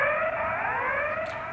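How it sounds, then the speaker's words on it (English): A recorded telephone playback of the Sellafield nuclear plant's criticality alarm: a loud, steady electronic whooping tone with a slow upward sweep, heard alone. "the criticality alarm sound is whoop, whoop, whoop"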